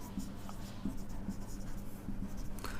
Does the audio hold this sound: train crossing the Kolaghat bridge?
no